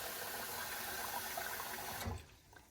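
Water runs steadily and splashes while rice is rinsed for steamed rice, a continuous close rushing wash that stops abruptly near the end, leaving a couple of faint drips.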